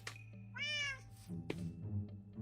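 A cat meows in a video game: one clear, drawn-out meow rises over steady game tones, followed by softer game sounds.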